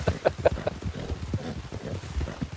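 A horse in Red Dead Redemption 2 gallops in a quick, uneven run of hoofbeats on the ground, close and moderately loud, with no voices over it.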